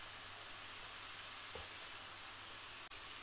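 Whole dried red chilies sizzle in hot oil with softened tomatoes, a steady, dense hiss throughout with a couple of faint clinks, no talking.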